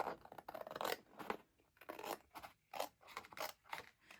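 Scissors snipping through paper while trimming pieces for a craft background page, a close series of quick repeated cuts in an uneven rhythm with no talking.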